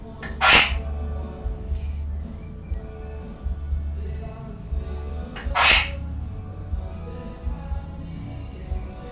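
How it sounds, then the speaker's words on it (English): Two small, sharp sneezes a few seconds apart, slightly distant, over a low steady hum of background music. "sneezing in the background"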